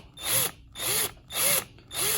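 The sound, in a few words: power drill drilling out a 1/64 toy car's rivet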